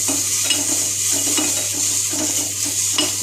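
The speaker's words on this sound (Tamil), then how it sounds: "நெய்யில் வதக்கிக்கலாம்." Steady sizzling of thoothuvalai leaves frying in ghee in a pan, with soft scraping stirs at a regular pace and no voices.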